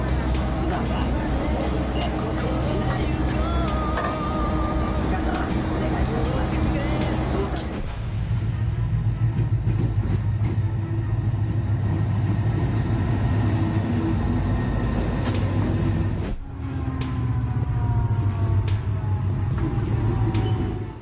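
The Nagano Electric Railway Yukamuri Limited Express rolls through a station without stopping, a continuous loud rail rumble and wheel noise that shifts in tone partway, with voices audible beneath.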